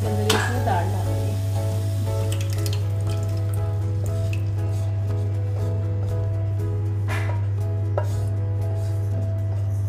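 Dal is poured into a hot tadka in a pan, giving a sizzle and frying crackle over a steady low hum, with spoon clinks and stirring scrapes as it settles.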